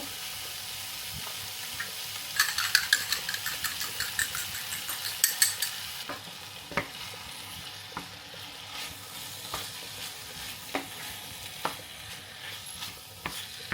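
Eggs crackle and sizzle in a hot pan, with a busy burst of spitting pops early on that settles into sparse clicks and soft hissing, close and fairly quiet with no voices.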